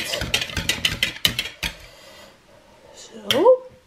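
Pancake batter being stirred in a bowl, a quick run of rhythmic clinking and scraping strokes up close that stops after about two seconds, followed by quiet and a short voice.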